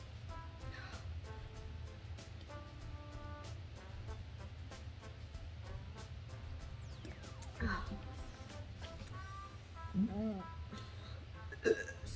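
After drinking a fizzy 2-liter soda, a person lets out several short belches spaced a few seconds apart, heard close and mixed with voices and steady background noise.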